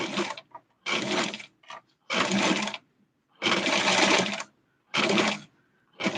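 A sewing machine stitches a mod-style Barbie doll dress in bursts of rapid mechanical whirring, each run lasting about half a second to a second with short silent pauses between, close and clear.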